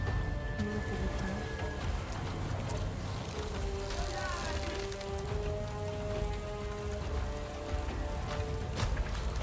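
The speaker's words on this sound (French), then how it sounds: "La pluie est battante sur Pandora." Heavy rain in the video game Avatar: Frontiers of Pandora pours down steadily, a dense close patter covering everything, with faint tonal sounds drifting underneath.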